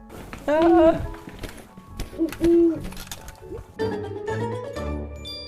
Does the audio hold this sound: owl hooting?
yes